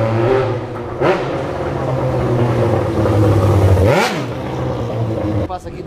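A new motorcycle's engine revs loudly nearby during a test, rising and falling in pitch a few times over a steady idling rumble.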